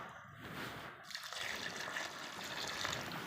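Water trickles and splashes steadily as it is poured onto a potted money plant, a soft close continuous pour with no talking.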